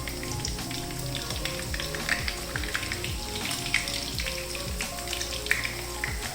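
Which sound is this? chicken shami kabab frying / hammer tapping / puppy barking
chicken shami kabab frying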